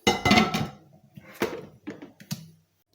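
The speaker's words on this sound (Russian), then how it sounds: "Накрываем крышкой аэрогриля" An air fryer lid is set down, giving a few sharp knocks and clatters of plastic and metal, fairly close, with short gaps between them and no talking.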